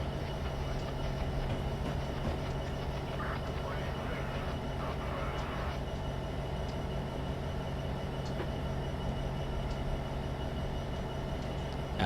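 A train rumbles steadily along the rails under braking in Train Simulator 2015, with a continuous low drone, faint clicks and a brief hissing squeal in the middle, while someone talks over it.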